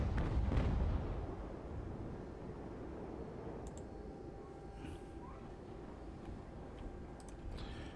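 Naval cannon fire in the age-of-sail battle game Ultimate Admiral: Age of Sail: a loud, heavy boom at the start that fades into a sustained low rumble of battle noise, with no talk.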